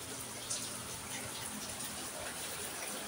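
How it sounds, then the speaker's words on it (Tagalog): At night, rain falls in a steady, faint, diffuse hiss with no let-up, heard at a distance and without any voices over it. "It's literally raining, guys."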